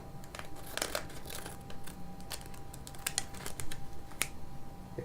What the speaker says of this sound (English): Okay, we'll just cut it open.